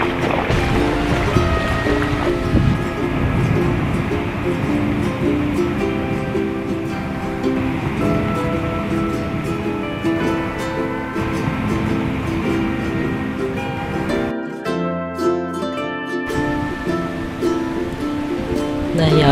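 Sea waves wash steadily onto Hồ Bể beach in Sóc Trăng, a continuous broad rushing surge at close range that briefly drops away near the end.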